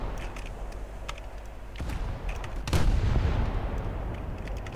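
Naval gun salvos in a War Thunder naval battle, with sharp reports at a steady pace and a heavy blast near the end that rolls into a lingering rumble, with no talk.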